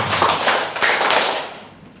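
A group at a school teacher workshop claps out a rhythmic counting game, with quick clustered claps blurring into a full, roomy burst that thins toward the end.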